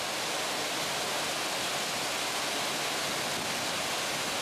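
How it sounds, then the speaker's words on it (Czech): Victoria Falls in southern Africa roars as a constant, dense wash of rushing water, loud and unbroken throughout with no voices. "To jsou Viktorijní vodopády."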